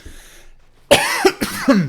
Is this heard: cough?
yes